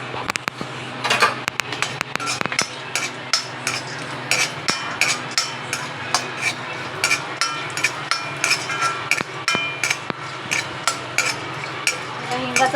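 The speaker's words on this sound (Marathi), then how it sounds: "हा पण थोडं तेलामध्ये भाजून घ्या" Asafoetida, about 10 grams of hing, roasting in a little oil for a homemade spice masala, with steady clatter of a spoon stirring in a pan and repeated sharp taps over a faint background hiss.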